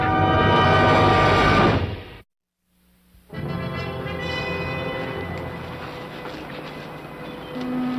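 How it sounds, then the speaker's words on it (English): A train rumbles past with a loud sustained horn blast, a brief quiet gap, then the horn and rolling rail noise return, close by. "I think I heard a train."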